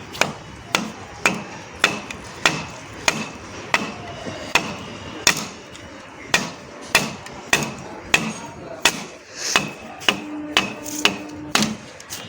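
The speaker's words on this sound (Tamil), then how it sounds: "இதையும் வெட்டி பார்க்க போகிறேன் ஓட்டை இருக்கா அப்படி இல்லையான்னு" Repeated sharp chopping strikes as a blade cuts into a bamboo silambam stick, about twenty loud, close, evenly spaced whacks in a steady rhythm, with brief faint voices between blows near the end.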